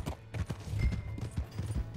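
Horse hooves clip-clop steadily in Red Dead Redemption 2, a quick repeated rhythm of close, moderately loud thuds over a low engine-like rumble of game ambience.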